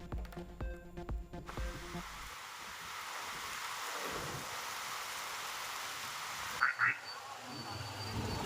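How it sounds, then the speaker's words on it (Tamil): Steady heavy rain pours down with a constant wash during a thunderstorm with strong winds in Kallakurichi, with a brief earlier thunder rumble and a couple of faint sharp sounds near the end. "இடி மின்னலுடன் பெய்த கனமழை"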